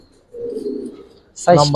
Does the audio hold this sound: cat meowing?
no